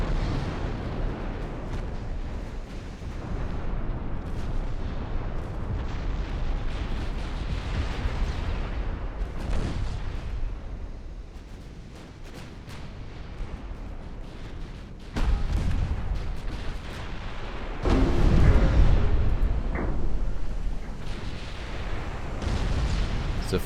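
Naval guns fire in a dreadnought-era battleship fight in the Ultimate Admirals: Dreadnoughts video game, with deep booming salvos and rumbling blasts that come again and again over a continuous roar of battle.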